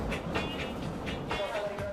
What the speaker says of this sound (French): Lorsque ces trains entrent en gare